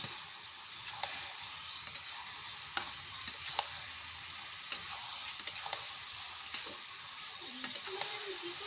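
Ash gourd being stirred in a pan with cumin, coriander powder and salt for a coconut ghonto: a steady soft sizzle with scattered spoon scrapes and clicks, close by, with no talking.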